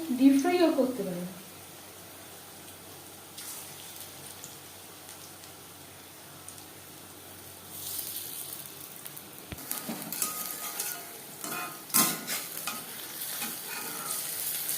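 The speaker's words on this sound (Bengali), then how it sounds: "আমি কম তেলে ভাজছি, আপনারা চাইলে ডিপ ফ্রাইও করতে পারেন।" Cabbage pakoras shallow-frying in a little oil give a quiet, steady sizzle with occasional stirring clatter and a brief voice near the start.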